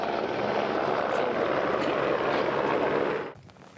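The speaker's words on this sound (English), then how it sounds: "Helicopter comes in." A Texas Department of Public Safety helicopter comes in close and loud, its rotor and engine producing a steady, dense roar that cuts off abruptly near the end.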